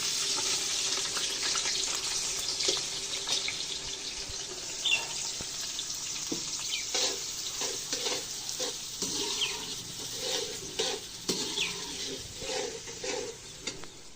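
Bitter gourd (karela) and onions frying in a pan, with a steady sizzle and repeated stirring scrapes, plus running water from a tap in the background. No voices.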